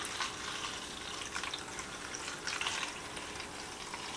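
Water poured from a container into onion seedling trays, a steady broadband splashing wash that runs continuously at moderate level with slight surges, no voices.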